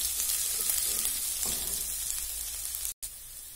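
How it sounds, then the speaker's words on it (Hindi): Garlic and ginger paste fries in a pan for a sweet potato dish, giving a steady bright sizzle with soft spoon-stirring scrapes throughout and a brief dropout near the end. "लहसुन व अदरक का पेस्ट ऐड करेंगे और चम्मच से अच्छी तरह से इसको थोड़ा हल्का सा"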